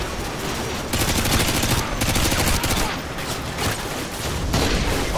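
Sustained bursts of automatic L-86 machine gun fire in Call of Duty: Modern Warfare 2, fired from a house's dining room window at hostiles coming from a tree line, loud, dense and rattling with brief pauses between volleys.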